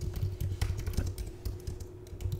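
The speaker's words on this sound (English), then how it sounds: "I'm just simply typing on my keyboard." Typing on a computer keyboard, heard as a fast, irregular run of close, crisp key clicks with a steady hum underneath and no talking.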